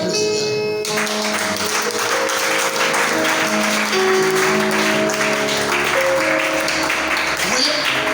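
Church congregation applauding and cheering for the Lord during a French-language sermon, sustained clapping and voices at an even, loud level for several seconds with tonal music or sustained notes running underneath.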